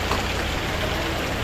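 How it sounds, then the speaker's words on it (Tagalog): Heavy rain falls in a dense, continuous wash, loud and close, steady through the short stretch with no voices. "Lakas ng ulan, no?"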